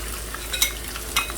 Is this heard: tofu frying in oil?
yes